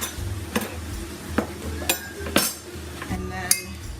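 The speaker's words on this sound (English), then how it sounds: "I'm going to kind of chop these in half so they fit into the pan better" Pork chops being cut in half with a utensil in a pan, several sharp metallic clinks and scrapes over a low background hum, near and moderately loud, with no talking.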